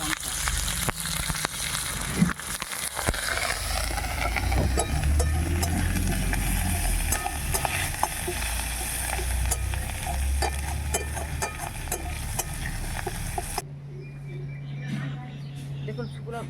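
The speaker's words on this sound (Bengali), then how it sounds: "তেলটা গরম হয়ে গেছে, আর ফোড়নে আমি দিয়ে দিচ্ছি অল্প একটু সর্ষে, কাজু পাতা আর একটা শুকনো লঙ্কা।" Mustard seeds, curry leaves and a dried red chilli sizzle and crackle in hot oil for a fish curry tempering, a close and continuous fry with stirring clinks and a voice over it, before the sizzle drops away near the end.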